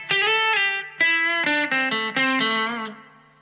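A Fender American Special Stratocaster electric guitar with the tone knob on 10, playing a short bright phrase of sustained notes and a few quicker ones, close and clear, ringing out at the end.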